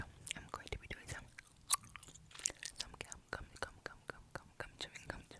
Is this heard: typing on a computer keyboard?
no